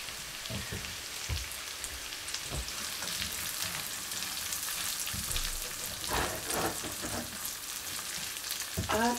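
Ginger, garlic and celery sauté in a pan with a constant crackling sizzle, punctuated by scraping clatters from stirring that grow busier toward the end.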